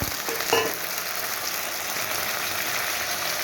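Spice paste with cumin powder and a little water frying in a pan, a continuous close hiss and sizzle with a brief scrape near the start.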